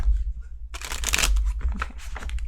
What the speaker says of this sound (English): Why can't I shuffle?